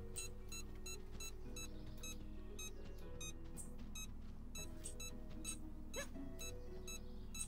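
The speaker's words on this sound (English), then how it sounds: "Why is it beeping?" Repeated electronic beeps from the video game Supraland, a regular pulsing alert over a low steady game hum, with a brief sweeping effect near the end.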